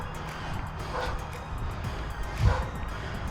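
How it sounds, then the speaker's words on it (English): A dog barks on the far side of a river, faint and distant, with a few scattered yips over a steady outdoor background. "There's a dog barking on the other side of the river."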